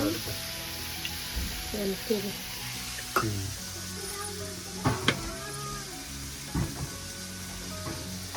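Prawns frying in oil in a home kitchen pan, a continuous crackling sizzle with occasional clinks and scrapes of a spoon stirring, moderately close, with faint voices in the background.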